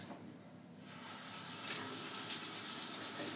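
Water running and splashing from a tap onto a Commodore A501 RAM expansion board while it is scrubbed free of vinegar, a steady close gush that swells after a brief quieter start.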